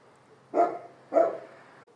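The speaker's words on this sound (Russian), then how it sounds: "боевой пес ищет закладку" A dog gives two short, muffled barks about half a second apart, fairly close but moderate in volume, over a quiet background.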